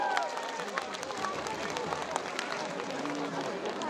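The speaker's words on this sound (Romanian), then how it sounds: "Încă o dată, mulțumiri și aplauze pentru urșii de la Slobozia." Festival audience at a folk traditions event in Onești gives steady applause, a dense wash of clapping with crowd murmur beneath it.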